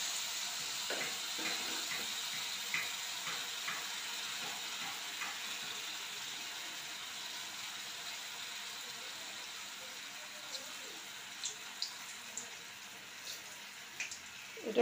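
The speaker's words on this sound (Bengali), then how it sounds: "তাল রেস্টে রাখার পর এবার আমি এটাকে ভাজছি।" Palm malpua batter frying in a pan of oil makes a soft, continuous sizzling hiss that stays fairly quiet and steady, broken by a few faint pops and clicks.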